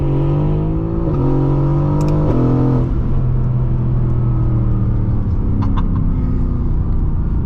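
A sports car's engine revs up hard on kickdown with stepped gear changes, the opened exhaust roaring loudly and steadily throughout, close by.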